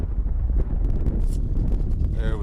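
Wind blows on a warm, windy day while trout fishing outdoors. It buffets the microphone as a steady, close, low roar, with gusty swells throughout.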